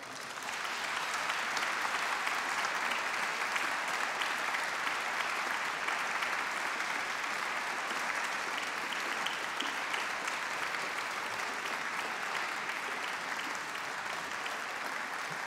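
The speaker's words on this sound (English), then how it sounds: "I'd now like to invite all the participants to come back on stage and receive your applause." An audience applauds competition participants returning to the stage at a classical recital competition, giving dense, sustained clapping that fills the hall evenly for the whole stretch without pause.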